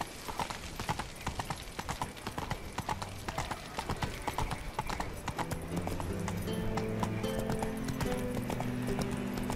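A horse in The Witcher 3 gallops in a quick, steady clip-clop of hoofbeats, fairly close, with game music and ambience rising beneath it in the second half.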